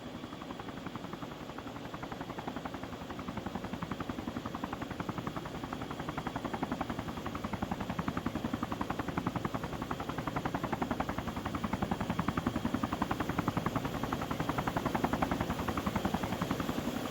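Helicopters hover in a video game scenario editor, a dense, steady rotor thrum with rapid blade chop that stays loud and unbroken throughout.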